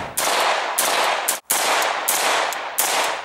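Rifle shots fired through a BCM Gunfighter Mod 0 compensator, five loud sharp reports in a steady rhythm about half a second apart, each with a short ringing tail, close by and with no talking.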